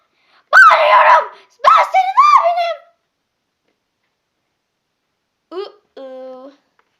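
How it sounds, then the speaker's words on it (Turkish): A person screams in two sharp, loud bursts, each about a second long, with a strained, harsh voice. After a silence comes a shorter, tonal cry, then a brief quiet. "Ne bağırıyorsun ya?"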